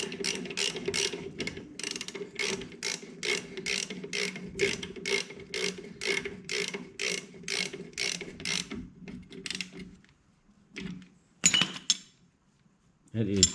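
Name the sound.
tightening down bolt on VW Beetle spindle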